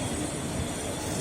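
An Indonesian KRL Commuterline electric train pulls away again after waiting at a signal, a steady broadband rumble of wheels and traction motors heard from inside the carriage, constant and fairly loud with no voices.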